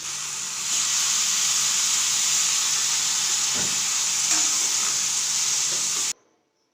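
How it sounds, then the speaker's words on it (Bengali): Spice paste of salt, turmeric, chilli powder and cumin powder cooking down with a little water in a pan, a loud steady hiss and sizzle close by with faint stirring knocks, cutting off abruptly near the end. "পরিমাণ মতন জল দিয়ে ভালো করে মশলাটাকে কষিয়ে নিতে"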